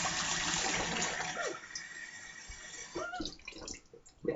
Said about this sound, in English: let me go ahead and put some warm water in it